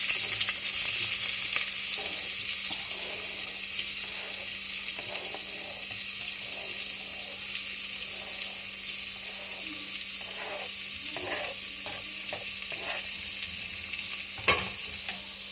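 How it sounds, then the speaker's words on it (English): Two onions frying in ghee for mutton curry, a steady bright sizzle throughout with occasional soft stirring scrapes and a single clack near the end. "Spoons of ghee, and I put in about, these are 2 onions."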